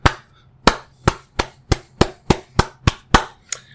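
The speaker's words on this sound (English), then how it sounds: "Another slow clap." A single person's slow clap, about ten crisp, close, evenly spaced hand claps at a deliberate pace, alone with no talking.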